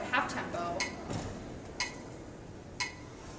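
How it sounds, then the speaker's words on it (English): A metronome set to half tempo at 56 bpm, faint, evenly spaced clicks roughly a second apart against quiet room noise. "metronome on half tempo, so 56, and practice to the half note"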